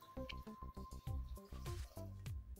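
Water is poured into a pot of crab pepper soup, sounding as a steady run of close, gurgling glugs and splashy drips that repeat rhythmically for a few seconds.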